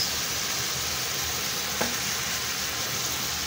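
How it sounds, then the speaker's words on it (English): Omena (dagaa) fish shallow frying in a pan give a steady, even sizzle with a constant crackling hiss, close and moderately quiet, with one small clink partway through. "So let's shallow fry our omena."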